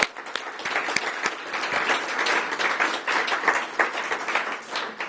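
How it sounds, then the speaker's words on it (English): An audience at a bank branch grand opening applauds warmly, with dense, uneven clapping from a sizable crowd close to the microphone for several seconds. "Can we please give it up for them, please? A round of applause."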